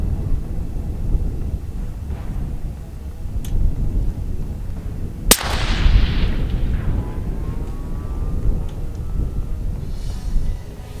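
A single sharp, loud rifle shot at a long-range shooting session at 300 yards, cracking suddenly and followed by a rolling boom that decays over several seconds against steady outdoor wind rumble.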